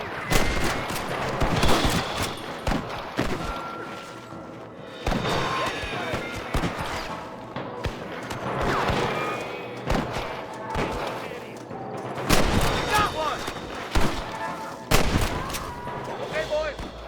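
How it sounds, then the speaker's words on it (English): Gunfire in Red Dead Redemption 2 rings out in dense bursts of loud, close shots with overlapping volleys and echoing cracks, pausing briefly between flurries, while voices shout over the shooting. "Good shooting, boy!"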